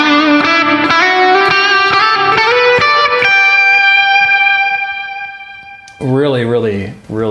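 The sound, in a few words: driven electric guitar, humbucker, Peavey XXX plugin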